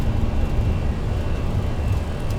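Airliner engines roaring in the video game X-Plane 11 during the takeoff climb, a steady dense rumble and whoosh, loud and continuous with no voices.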